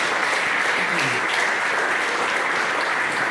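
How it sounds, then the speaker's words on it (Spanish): A church congregation applauds loudly during a sermon, a steady, full wash of clapping that fills the room for the whole stretch with no pause. "Apláudale fuerte."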